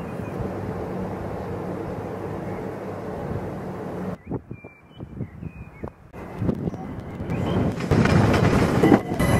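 A passenger train runs along the rails, heard up close as a steady rumble for several seconds, then a series of rhythmic wheel clacks before the roar builds again, loud and without talk.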